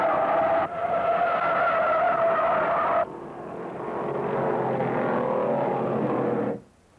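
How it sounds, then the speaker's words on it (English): A Chevelle stock car skids and spins out in a corner at the 1968 American 500 race in Rockingham, NC. A loud, sustained tire screech and engine roar carry for several seconds, change pitch partway through and then cut off abruptly. "Doc Tarr, driving the Zero Chevelle, lost it and spun in the corner"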